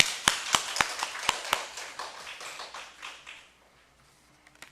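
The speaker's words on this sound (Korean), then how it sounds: "하나님께 영광의 박수 올리겠습니다." A church congregation at a Thursday evening prayer meeting gives a round of applause, opening with a few sharp, loud claps that spread into a dense patter of many hands, then fade away to near silence.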